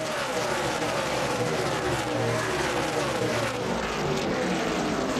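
Roaring engines of NASCAR Nationwide Series race cars at Phoenix charge down into turn one, a dense, continuous mechanical drone with no break, heard from a moderate distance.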